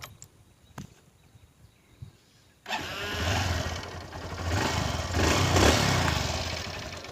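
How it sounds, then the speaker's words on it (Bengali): A Honda Livo motorcycle starts up after a quiet lead-in of faint knocks, then settles into a smooth, steady idle that swells slightly in loudness, close and without talk. "দেখুন বাইকটি কিন্তু স্টার্ট দিয়ে আছে কিন্তু বোঝা যাচ্ছে না যে স্টার্ট দিয়ে আছে মানে এত স্মুথ সাউন্ড"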